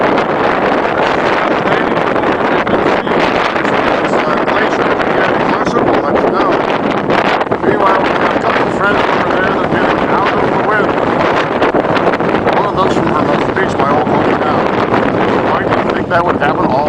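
Strong gusting wind on an exposed mountain high point in Patagonia, a loud continuous roar battering the microphone for the whole stretch, with a voice faintly audible beneath it.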